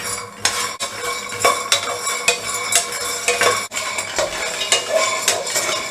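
Roasting in a pan over a medium flame for a Manipuri pennywort salad, with a spoon scraping and clinking against the pan in repeated close strokes over a low sizzle, and no voices.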